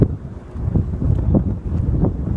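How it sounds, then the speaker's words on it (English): Strong wind on the hilltop of ancient Megiddo, Israel, buffets the microphone in heavy, uneven gusts, a low roaring rumble with no voices. "It's really windy up here."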